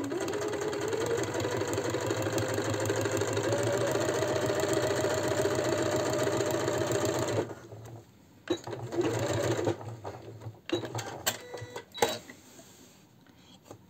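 A sewing machine stitches a seam on a men's shirt with a steady, close mechanical whir for about seven seconds. It then stops and gives way to a few short bursts of stitching and handling clicks.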